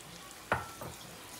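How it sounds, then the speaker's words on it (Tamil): Tamarind fish curry gravy poured into a hot pan of onion-tomato masala for Madurai-style fish kulambu, giving a sudden splash-and-sizzle burst followed by a softer second sizzle over a low frying background, with no talking. "இந்த ஸ்டேஜில் நான் நம்ம கரைச்சி வச்சுருந்தோம் என் குழம்பு அதை ஊற்றுறேன்."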